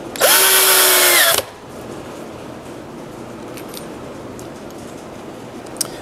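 A power drill drives an exterior deck screw into an anvil table, one loud high whine lasting just over a second and stopping abruptly, followed by quiet room noise.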